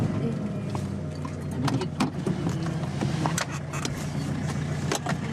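Car stuck in sand with its rear left wheel sunk, engine running with a steady low hum and scattered clicks and rattles, sustained at moderate level throughout.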